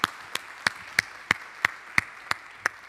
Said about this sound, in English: Could we give Cheru a round of applause?